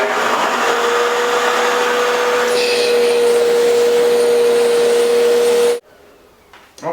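A dust extraction vacuum hooked to a router for cutting dadoes and rabbets in a shop roars steadily with a constant whine, then cuts off abruptly near the end, leaving quiet room tone.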